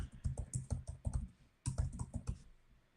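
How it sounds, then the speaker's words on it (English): Rapid clattering keystrokes on a computer keyboard in two close bursts of typing separated by a short pause, crisp and near with no voices. "My typing catches up."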